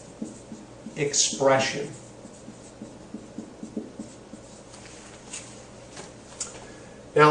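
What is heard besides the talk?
writing the words DNA expression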